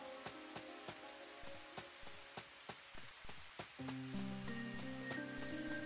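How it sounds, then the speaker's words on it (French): Rain falling in the video game Chained Echoes, a steady patter with regular droplet ticks over a soft hiss, joined partway by sustained synth music tones. "Eh ben il pleut"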